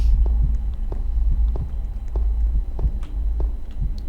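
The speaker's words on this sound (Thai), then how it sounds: "เสียงมันตึกตักตึกตัก" Steady, muffled heartbeat thumps from the horror video game The Asylum repeat at an even pace over a low, constant hum, with no talking.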